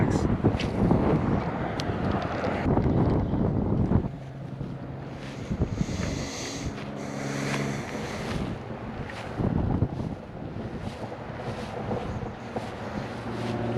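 Strong wind gusts buffet the microphone on a beach at Tybee after Hurricane Ian, a rough low rumble that is heavy at first and eases after a few seconds, with surf-like wash and a voice speaking at times.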